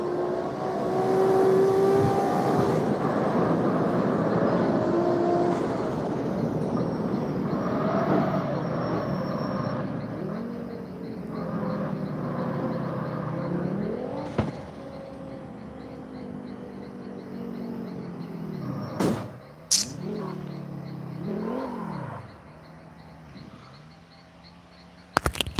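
A car in the racing game CarX Street drives through a tunnel, its engine droning and revving with rising and falling pitch sweeps as it shifts, loud and close, ending with a few sharp bursts.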